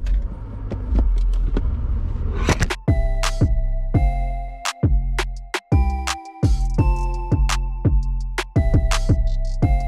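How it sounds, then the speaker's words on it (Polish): A car's engine idles with a low rumble as it is moved, and repeated electronic chime tones sound loudly and closely over the running motor. "Przestawię samochód może."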